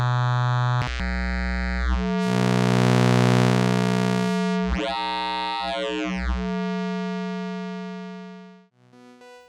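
Sustained vector synthesizer tones shift and morph in timbre, with sweeping harmonics, bright buzzy bursts and gliding pitch changes, played alone without voices.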